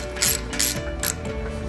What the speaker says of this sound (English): We're going to use a 10mm to go ahead and tighten these down.